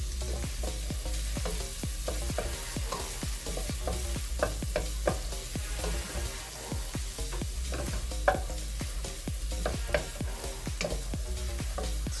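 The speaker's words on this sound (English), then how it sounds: "So now I just turned it down to about medium-low so that we're not overcooking the butter or the onions and garlic" Onions and garlic softening in butter over medium-low heat, a soft continuous sizzle broken by frequent spoon taps and stirring scrapes in an uneven rhythm.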